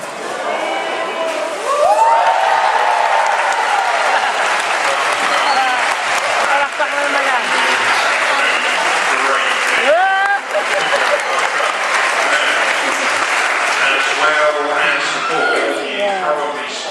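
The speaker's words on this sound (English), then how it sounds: "If Barley touches the ball, please give her a big cheer." An audience bursts into loud, sustained applause and cheering for Barley the dog touching a ball, with children's shouts and voices mixed into the crowd noise for the whole stretch.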